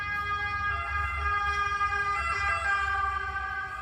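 An ambulance siren wails steadily and loudly, its rising and falling tones holding throughout over a low rumble of traffic.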